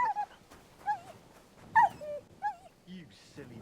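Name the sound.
dog whimpering in video game Kingdom Come Deliverance 2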